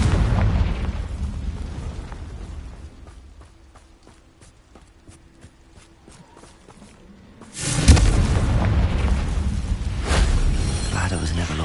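Confringo spell explosion in the Hogwarts Legacy video game: after a quieter stretch with faint ticking, a sudden loud fiery blast bursts in and rumbles on with crackling debris.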